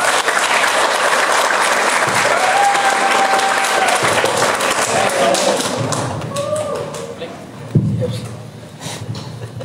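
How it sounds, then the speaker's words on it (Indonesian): Audience at a Qur'anic exegesis session at UIN Walisongo Semarang breaking into loud applause, which thins out over the last few seconds into scattered claps, a sharp thump and faint voices. "Beri tepuk tangan yang meriah"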